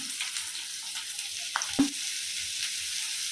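Onions and turmeric sautéing in a pan give a steady soft sizzle, with a couple of brief louder clatters of stirring near the middle and no talking.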